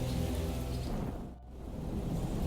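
Thunder rolls through a rainforest during steady rain, a deep continuous rumble blending with the hiss of falling water and easing briefly midway before swelling again.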